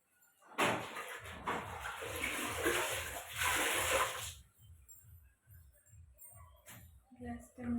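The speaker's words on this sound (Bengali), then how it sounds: "এখন আমি ঘরটা মুছে নেবো।" Wet mopping of a room's floor at home, a rhythmic swishing and sloshing of water that is loud and steady at first, then turns into softer, spaced strokes toward the end.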